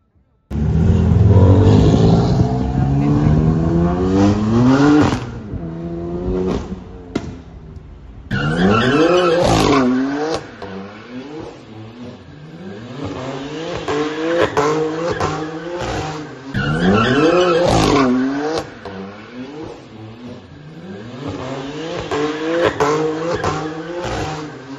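A car drives on an American road, its engine revving up in repeated rising sweeps as it accelerates through the gears. The sound is loud and close, with short lulls between pulls.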